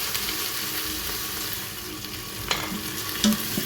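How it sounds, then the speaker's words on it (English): Golden brown onions sizzle steadily in a pan while being stirred, with a couple of sharp utensil clinks against the pan, close and alone without talk. "Our onions are already golden brown, so I'm going to be adding some beef stock"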